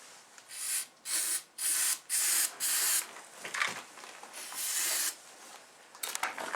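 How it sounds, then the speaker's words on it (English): Starting fluid from an aerosol can sprayed into the air cleaner box of a DRZ125 dirt bike in a series of five short, loud, hissing bursts, then a longer spray, close up with no talk. "Let me give it a couple squirts here of starting fluid."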